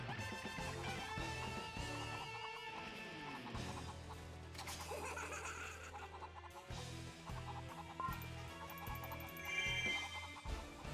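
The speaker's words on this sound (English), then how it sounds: "Hello, chickens." Chickens cluck in Hyrule Warriors Definitive Edition, a video game, set against dense, continuous game music and sound effects that keep the clucks partly buried throughout.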